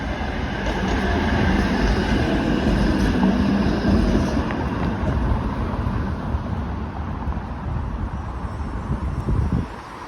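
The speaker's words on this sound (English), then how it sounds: "this is the GO Train Richmond Hill line" A GO Train on the Richmond Hill line rolls past in Toronto, a loud, steady rumble and rail roar that holds for about ten seconds, with wind buffeting the microphone outdoors.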